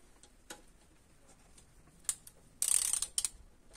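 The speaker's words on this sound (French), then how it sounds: "Et on va desserrer donc ces 10 vis." Ratchet wrench loosening the ten screws on a Peugeot 106 Roland Garros: a few scattered light clicks, then a short dense burst of rapid ratcheting followed by a couple more clicks, close and alone.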